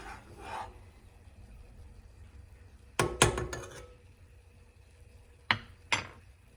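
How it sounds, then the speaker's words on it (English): Spoon clinking and scraping against a pot of boiling ceremonial cacao spiced with cinnamon on low heat, a burst of quick knocks followed by two single clinks over a faint simmering hiss. "Just gonna mix it a little bit."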